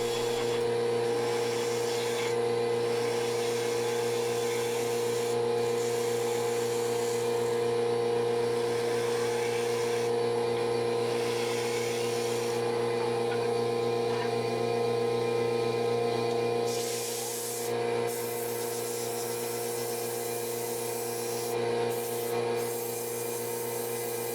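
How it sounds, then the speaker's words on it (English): A wooden bowl spins on a lathe while its bottom is sanded, giving a steady rubbing hiss over the constant motor hum, with brief pauses and shifts in pressure throughout. "do the final shaping and sanding of the bottom of our bowl"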